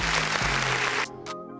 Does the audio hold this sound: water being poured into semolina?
no